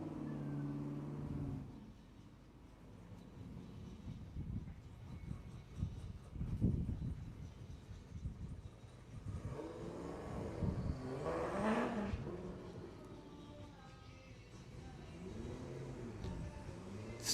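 A race car at a Christchurch street sprint rumbles and revs while warming its tyres, the engine note rising and falling through several surges, mostly at a moderate distance with a louder passing swell in the middle.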